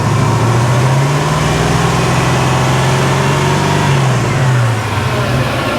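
An abandoned 1955 Chevy Nomad's engine is revved up close in a sustained, rising and falling roar that holds loud and steady throughout, with no talking.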